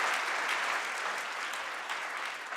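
An audience at a winter satellite workshop breaks into brief, steady applause, a dense wash of clapping heard from within the hall with no voices over it.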